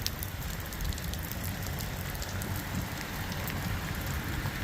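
Rain falling outdoors around a 2025 fifth-wheel trailer, a steady dense hiss of drops pattering on surfaces, continuous and fairly loud with no voices.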